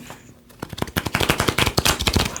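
Tarot cards are shuffled by hand in a quick run of crisp riffling flicks and snaps, close and fairly loud, following a brief quiet start.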